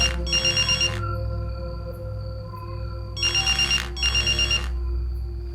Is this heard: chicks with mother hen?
no